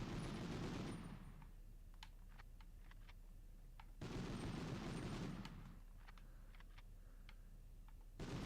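Short bursts of gunfire in the game Medal of Honor come in two separate volleys, each followed by scattered crisp clicks and ticks while the loudness fades, with a fresh burst starting right at the end.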